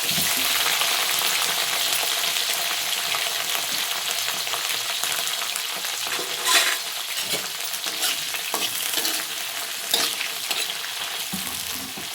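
Chilies frying in a pan over a low flame, a continuous crackling sizzle with scattered louder pops and the scrape of stirring.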